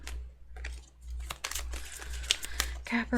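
Soft crinkly rustling and papery flicks of tarot cards being shuffled, steady and close, with a low hum underneath.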